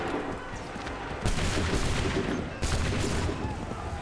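A musket volley in Assassin's Creed 3, a dense crackling burst of many shots fired together with rolling reports that swell at about one second and again near the middle.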